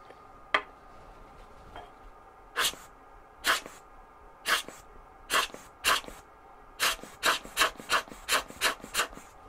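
A hand air blower puffing onto a camera sensor gives a series of short, sharp hissing bursts, sparse at first and then coming in a quick, fairly regular run of about a dozen puffs, close and clear.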